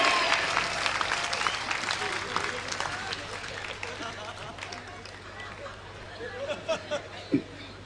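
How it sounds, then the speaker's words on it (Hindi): An audience at a Hindi kavi sammelan poetry recital claps steadily, loudest at first and then thinning out, with chatter and some laughter mixed in and a few separate thumps near the end. "सारे लोग ताली बजाओ"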